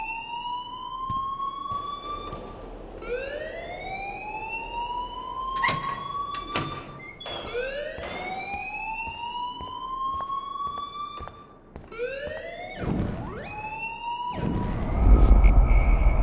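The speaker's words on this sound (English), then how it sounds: "please turn off that alarm since that's your job" A fire alarm blares in Life Is Strange, its loud rising and falling siren-like wail repeating over and over, interrupted by sharp clanks and bangs, with a rumbling burst at the end.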